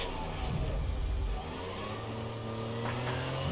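A car engine in Fortnite Zero Build hums and revs at mid pitch, a steady motor drone that swells briefly near the start, then settles into a lower rumble with some shifting tones.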